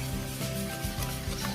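Eggs are whisked in a bowl for a banana cake batter, with a steady, close scraping and rubbing rhythm and a faint tonal hum underneath.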